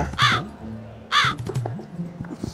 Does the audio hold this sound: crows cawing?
yes